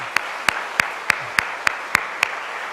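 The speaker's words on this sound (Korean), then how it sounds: "우리 하나님께 영광의 박수 올려드립시다" A congregation at a Korean Sunday church service claps in slow unison, about eight sharp, evenly spaced claps over a faint room hum.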